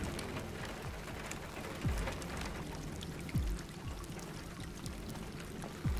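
Steady rain falls in the game Detroit: Become Human, a dense wide hiss of drops spattering on surfaces, with a few low swooping tones rising out of it at intervals and no speech.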